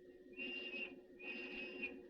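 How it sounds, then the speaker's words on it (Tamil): A police whistle shrills twice in a row, each long steady blast lasting about half a second, over a constant low hum, near and fairly loud. "என்னது விசில் சத்தம் கேக்குது? Police whistle."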